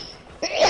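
One sudden close sneeze bursts out after a short quiet stretch, loud and breathy, with no talking around it.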